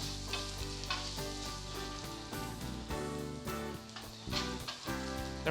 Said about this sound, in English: we've got some olive oil already warmed up in the pan. We're going to throw in some garlic.